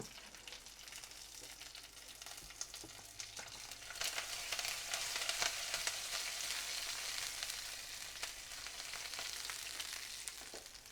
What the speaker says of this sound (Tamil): ரவையை போடும் போது கொஞ்சம் கொஞ்சமாக போட்டு நம்ம கலரணும்